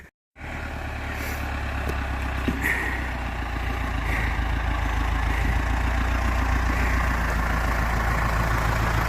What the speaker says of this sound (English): I could lie to you and say I stopped because of that tractor